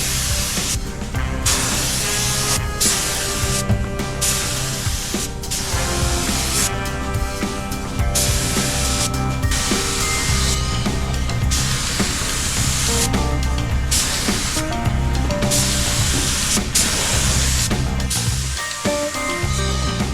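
Steady spray hiss of a black metallic Rust-Oleum base coat being sprayed in conditions below the recommended range, running loud and nearly continuous under music-like tones.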